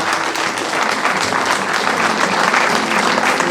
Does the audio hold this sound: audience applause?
yes